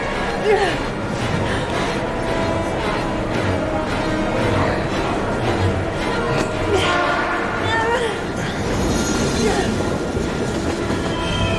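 In the video game Heavy Rain, a train rumbles past close by, its wheels clattering and squealing without a break for about twelve seconds, with some voices now and then.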